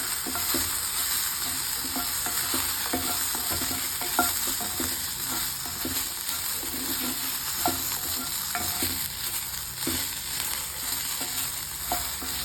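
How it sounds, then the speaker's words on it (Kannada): Turkey berries fry in a little oil in a pan, giving a steady, close sizzle with frequent soft stirring scrapes throughout and no talking. "ಈ ಥರ ಇವಾಗ ಫಾಸ್ಟಾಗಿ ಫ್ರೈ ಆಗುತ್ತೆ"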